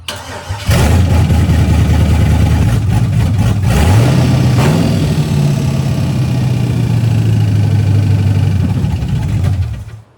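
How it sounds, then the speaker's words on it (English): A GM LS truck engine with an engine failure cranks and starts, then idles loudly and steadily with a faint repetitive ticking and knocking running through the rumble until it shuts off. "it was ticking and it kind of sounded like a knock"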